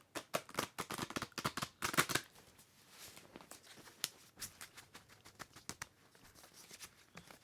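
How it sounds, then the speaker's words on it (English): Tarot cards being shuffled in a series of close, crisp riffles and flutters, a loud burst at the start and then lighter, irregular card snaps and slides. "One more shuffle should do the trick."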